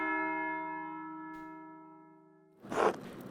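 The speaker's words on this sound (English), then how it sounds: "Alright, that's the bell for Sext." A church bell in the video game Pentiment rings for Sext, a single clear toll with long sustained harmonic overtones that slowly decay, followed by a brief burst of louder noise near the end.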